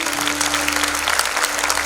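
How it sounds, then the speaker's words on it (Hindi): A crowd applauds the team Veer Gatha after a stage performance, thick continuous clapping from many hands with a steady low hum underneath, loud and even from start to finish. "Big round of applause for the team Veer Gatha."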